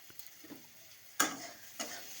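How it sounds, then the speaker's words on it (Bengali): Prawn curry base with turmeric powder fries quietly in a pan, a faint steady sizzle broken by a few sharp spoon taps and scrapes, close and soft, with no voices. "দিয়ে একটু সময় ভাজবো।"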